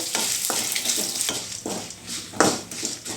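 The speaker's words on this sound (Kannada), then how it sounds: "ಸಾಸಿವೆ ಜೀರಿಗೆ ಎಲ್ಲನೂ ಚಟ್ಪಟ ಅಂತ ಹೇಳ್ತಾ ಇದೆ" Mustard seeds and cumin spluttering in hot oil in a pan for an okra chutney, giving a steady crackling sizzle broken by sharp pops and a few scraping stirs, close and fairly loud with no talk.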